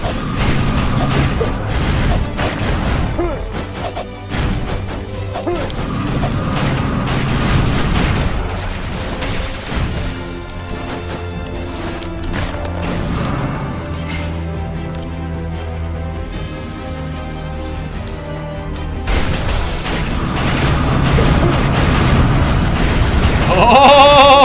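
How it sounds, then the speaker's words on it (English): Explosions in the video game Skul: The Hero Slayer burst amid a dense, loud stream of game effects, booms, impacts and crashing hits, with a heavy rumbling blast near the start and the clamor continuing throughout. "Look at that, one explosion, 20 kills."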